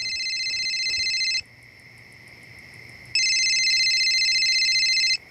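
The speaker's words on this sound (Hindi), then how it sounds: "तेरा फोन बज रहा है" A mobile phone rings late at night in a home, sounding as two long bursts of a bright electronic ringtone separated by a short pause, close and clear with no talking.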